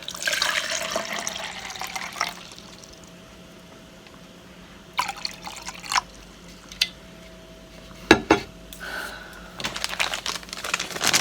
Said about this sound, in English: let's go on ahead and get water into my cup